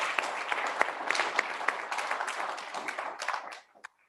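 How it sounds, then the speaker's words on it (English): A candidates forum audience applauds the candidates with steady, lively clapping that holds for several seconds, then quickly thins out and stops near the end. "So let's give them a round of applause."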